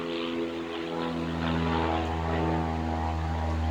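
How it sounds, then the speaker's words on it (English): A propeller airplane drones overhead, a loud, steady engine hum with rich low tones that swells slightly as it passes, with no voices. "Say hi to the airplane."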